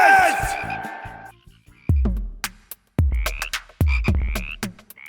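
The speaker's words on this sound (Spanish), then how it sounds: "Tengo ranas hasta en la sopa y ya estoy asqueado" Frogs croak in a cartoon telling of the biblical plague of frogs, several loud, close croaks coming in bursts with short gaps between them, after a brief musical flourish at the start.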